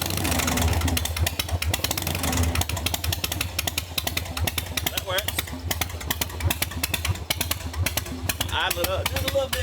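A motorcycle engine runs at a close, loud idle with rapid, even pulsing firing beats, and voices talk over it throughout.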